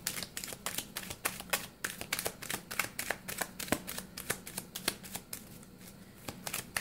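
Tarot cards being shuffled: a quick, rapid run of crisp riffling and flicking that keeps going at a brisk, uneven pace, close and fairly quiet, with no voices.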